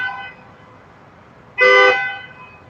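Driverless cars parked in a lot at night let out a single loud honk, a brief blaring burst that rises from a quiet background and fades after about half a second.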